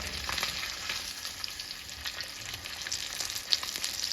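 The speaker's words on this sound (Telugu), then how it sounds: "డీప్ ఫ్రై చేసుకుంటున్నాను కదా" Fish deep frying in hot oil for a simple fish fry, a steady crackling sizzle that holds close and fairly loud throughout, with faint stirring in the pan.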